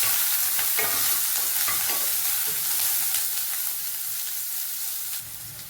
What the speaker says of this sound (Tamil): சைடிஷ் உருளைக்கிழங்கும் சூப்பராக வறுத்துட்ருக்கேன்